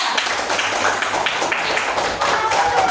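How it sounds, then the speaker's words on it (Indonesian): Classroom applause for a student group after their presentation, a dense, steady wash of many hands clapping close by for the full stretch, with some voices mixed in. "Beri tepuk tangan untuk kelompok 3."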